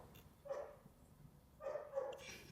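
A dog barks indoors somewhere off in the background, two or three faint, muffled woofs spaced apart with quiet room tone between them and no speech.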